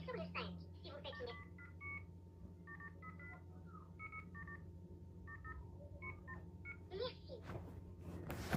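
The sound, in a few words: telephone keypad DTMF tones entering a card number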